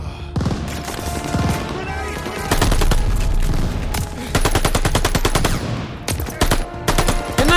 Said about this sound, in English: Is that machine gun still over there?